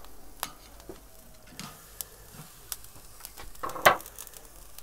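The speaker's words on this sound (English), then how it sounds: "And that's the sound you're looking for. That's of the salt falling onto the coals." Salt falling onto hot barbecue coals: faint crackling and popping over a low hiss, with sporadic sharp snaps and a brief louder sizzling burst near the end.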